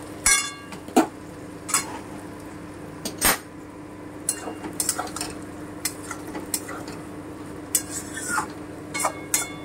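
A spoon stirs Mourola fish chochchori in a metal kadai, with scattered scraping clinks and knocks against the pan over a steady low sizzle and hum, close and moderately loud.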